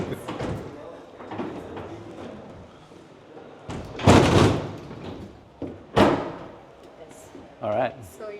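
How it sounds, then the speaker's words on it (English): An aircraft cabin door on an Air India training setup is unlocked from its gust lock and pulled rearward and inward, giving several heavy thuds and clunks with a loud bang near the middle, as people talk around it. "You release this gust lock, pull the door rearwards, inwards, and then you"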